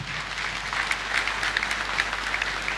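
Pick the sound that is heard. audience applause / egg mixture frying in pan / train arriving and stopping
audience applause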